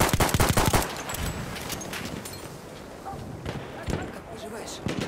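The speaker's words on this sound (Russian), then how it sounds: "Это вражеский пулемет!" An enemy machine gun fires in the Battlefield 1 video game, a rapid close burst of shots at the start followed by scattered distant gunfire and impacts, while a voice talks over it.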